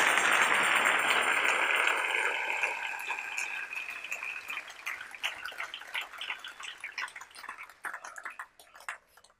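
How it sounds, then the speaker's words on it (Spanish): Church congregation applauds loudly at first, then the clapping thins into scattered, sharper claps that gradually fade out. "Denle ese aplauso al Rey en esta hermosa y linda mañana"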